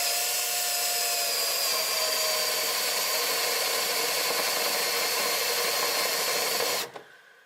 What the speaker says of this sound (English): And you just drill, and you don't want to go too deep, otherwise you blast through your backing panel.